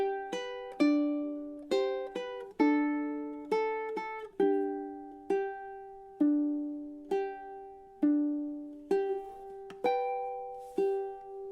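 A ukulele plays the Waltzing Matilda outro with Travis picking, clean plucked notes ringing out one after another in a gentle, even rhythm, close and alone with no voices.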